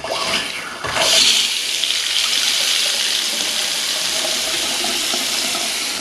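Hot water running from a newly installed bathroom sink faucet: a steady hiss of flow that swells when the tap opens and keeps running close and even.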